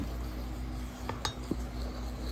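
A utensil stirring tortilla flour mixed with baking powder in a bowl, a few faint clinks and taps against the bowl over a quiet room hum.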